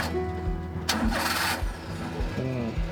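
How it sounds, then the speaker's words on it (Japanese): A kei truck's engine cranks and catches at close range, the starter whirring briefly before the motor settles into a steady idle, with a short mechanical clunk near the end. "エンジン始動してみます。"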